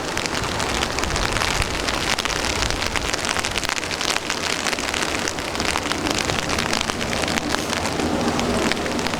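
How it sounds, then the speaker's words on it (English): Heavy rain pounds down in a dense, unbroken roar, with gusting wind layered through it and no voices. "Biblical rain and wind."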